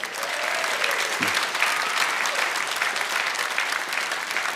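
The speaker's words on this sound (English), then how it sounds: "a big round of applause for the stable" Audience applause fills the hall at a blues awards ceremony, a steady, dense wash of clapping held at an even level throughout, with a brief tonal sweep early on and no clear voices.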